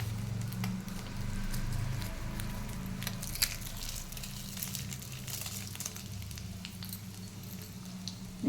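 Cumin, mustard seeds and dried red chilies sizzling in hot oil in a pan, a steady crackling fry with scattered popping seeds, close and continuous, with a faint low hum underneath.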